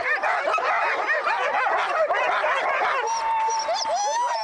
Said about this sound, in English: there is an adventure in Juneau that will have you hanging out with huskies and hitting the trail.